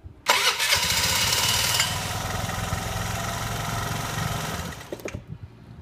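A scooter engine with a completely dead battery is jump-started using a BS Battery Powerbox booster. It cranks, catches and runs as a loud, buzzy small engine for several seconds before it settles and tapers off.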